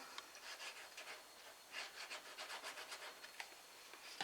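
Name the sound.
burnishing down a folded paper box flap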